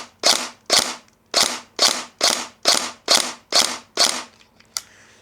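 An airsoft MP5 fires ten shots in full-auto mode, each a sharp, loud, close crack in a steady, even rhythm, with a faint mechanical click at the end and no talking.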